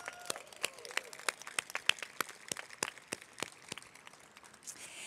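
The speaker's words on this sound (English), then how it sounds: "Let's have a round of applause for that." Sparse clapping at a brand launch event in Dallas, distinct individual claps from a small group spaced irregularly, fairly faint and thinning out toward the end.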